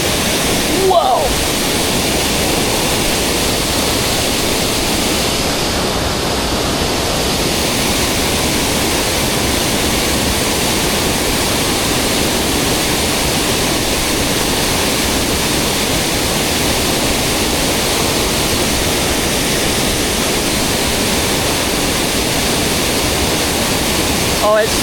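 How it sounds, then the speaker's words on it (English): A jungle waterfall near Chiang Mai roars as a dense, constant wash of broadband noise, loud and close throughout with no pauses. "waterfalls, waterfalls."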